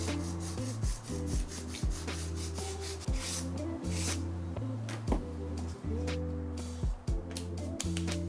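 Styrene model parts for a scratchbuilt starfighter sanded by hand, steady back-and-forth rasping strokes in a regular rhythm, close and loud, with no talk.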